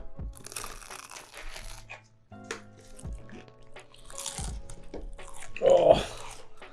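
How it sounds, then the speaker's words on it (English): A crunchy bite of Jollibee fast food during a mukbang, one sharp crisp crunch close to the mic late in the clip, with chewing and voices around it. "Let me get this crunch."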